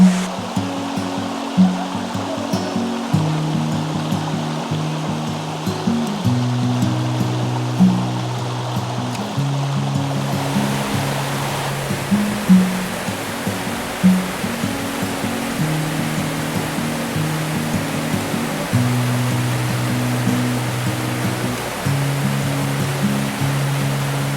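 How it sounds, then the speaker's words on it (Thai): Hot spring waterfall stream at Khlong Thom, Krabi, Thailand: a continuous broad rush of flowing water close by, with a low stepped melodic tone running underneath throughout. "นี่ก็คือต้นน้ำของน้ำตก ไหลมาจากทางด้านนี้นะ"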